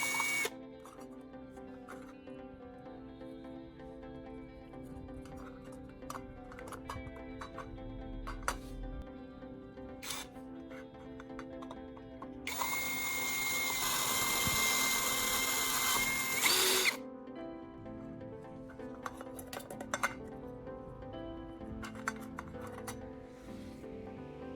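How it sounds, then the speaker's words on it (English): A power drill with a step drill bit cuts through a metal tuna can lid, whirring in a steady hum with short bursts, then a louder, harsher grinding stretch in the middle before settling back to lower whirring. "I'll drill a small pilot hole first, and then use a step drill bit to gradually enlarge the central opening."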